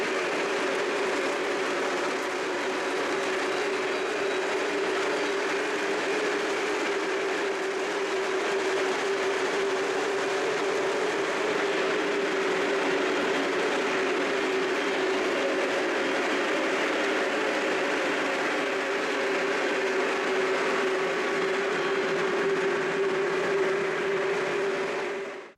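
Fast model freight train rolling steadily along its track, a continuous close whirring hum with faint clicking, unbroken for the whole stretch with no voices.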